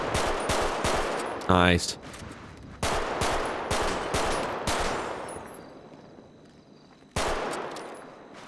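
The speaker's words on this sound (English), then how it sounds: "Let me see if we could actually shoot these bottles, too" Gunfire in a police video game as shots are fired at bottles: sharp, loud reports in quick bursts with short pauses, then a few more after a longer gap, while a voice speaks briefly.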